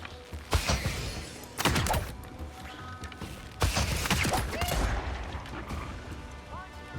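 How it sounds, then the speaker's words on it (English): Gunfire in the fantasy game Avowed, several sharp, loud shots or blasts in separate bursts, each a sudden crack with a short tail, with a voice briefly speaking between them. "Who's shooting?"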